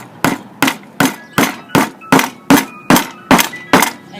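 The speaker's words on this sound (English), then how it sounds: "take your little hammer and you can," A small hammer taps a glued dowel into a small wooden rabbet-joint box in ten sharp, evenly spaced blows, close and loud, with no talking.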